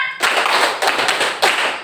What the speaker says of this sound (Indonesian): dengan menggunakan buku. Tepuk 1, tepuk 2, tepuk 3, tepuk 4, tepuk 5.